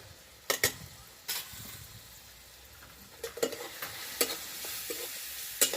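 Turmeric being stirred and fried in a pan for potato bhaji: a soft, quiet sizzle runs underneath while a spoon scrapes and taps the pan in scattered bursts, close by, with no voices.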